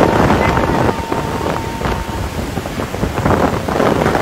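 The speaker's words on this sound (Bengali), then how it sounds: "ঝড়ো হাওয়া" Strong, gusty storm wind from Cyclone Remal roars and buffets the microphone in loud, uneven surges with no pause, on the Jhalokathi coast.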